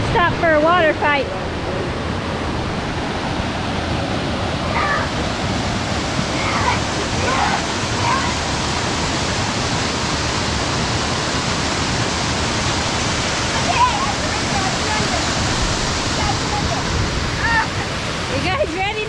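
A waterfall that people are climbing up, a loud steady rushing roar filling the whole scene, with voices faintly heard over the water.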